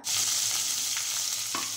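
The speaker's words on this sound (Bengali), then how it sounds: "হালকা নেড়ে চেড়ে নিতে হবে" Loud, continuous sizzle of onion paste, ginger paste, dried red chillies and bay leaf frying in oil in a wok for a doi katla fish curry, with a couple of faint stirring scrapes.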